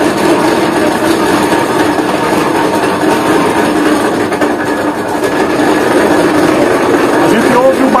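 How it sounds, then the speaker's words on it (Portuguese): A motor-driven sugarcane mill at a family engenho in the Paraíba backcountry runs steadily while crushing cane, a dense continuous mechanical rumble and clatter close by, with a voice faintly mixed in. "A gente ouve o barulho do motor. O motor vai trabalhando, vai esmagando a cana e tirando o delicioso caldo."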